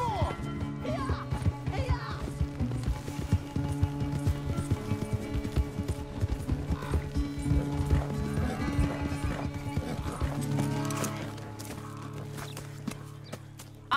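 Galloping horse hooves in Red Dead Redemption 2, a steady rapid clip-clop close up across the whole stretch, with occasional whinnies and people talking over the ride.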